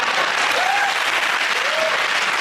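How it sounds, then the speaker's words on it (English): Steady, dense applause from a television comedy studio audience, a continuous wash of clapping held at even loudness, with faint tonal calls or whoops rising briefly over it. "give it a round of applause for Chris, Hugh and Milton"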